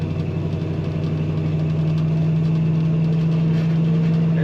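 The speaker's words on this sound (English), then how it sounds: "But she's got a nice rumble." A 1966 Chevrolet C10 pickup's V8 idles with a steady, deep low rumble, even and continuous throughout, close up with no talking.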